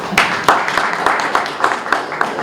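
Scattered audience claps at a lecture on Gandhi in Pune, a thin, uneven patter of sharp hand claps rather than a full ovation, fairly close and lasting only a couple of seconds.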